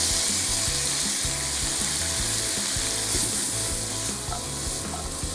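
Asparagus sizzling in a pan with butter and lemon juice, a loud, steady crackling fry with bubbling texture that stays constant throughout, close up with no voices.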